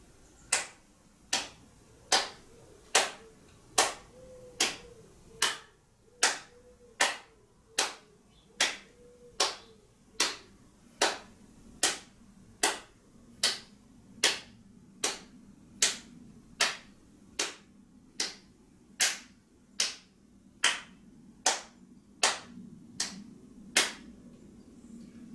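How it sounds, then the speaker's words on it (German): Hands clap with the fingers slightly stretched during a seniors' hand reflex-zone tapping exercise, about thirty even claps at a steady, unhurried rhythm, close and clear over a quiet room. "Beim Klatschen achten Sie darauf, dass Sie die Finger etwas strecken."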